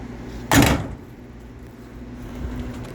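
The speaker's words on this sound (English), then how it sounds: "I'm going to close the engine bay door." A single solid thud of a motorhome's engine bay door swinging shut, fairly close, followed by a low steady background hum.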